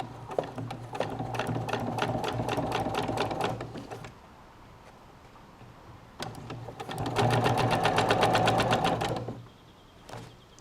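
A sewing machine stitches a bridge hammock bug net in two steady runs of rapid needle clatter, separated by a quiet pause, then a brief final burst.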